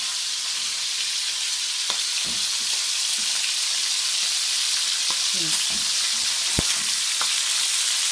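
Salt fish sizzles and crackles steadily in a hot pan for a stew, with a continuous close frying hiss broken by a few soft clinks and stirring sounds.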